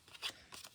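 Scissors cut off excess paper in a papercraft project with two short, quiet snips about a quarter second apart, close by.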